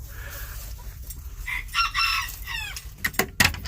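A rooster crows near a barn, a loud, stretched call in the middle followed by sharp clucks and squawks, with farm birds close by.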